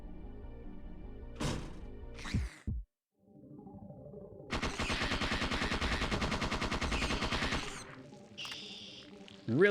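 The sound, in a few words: gunfire in video game Parasite Eve 2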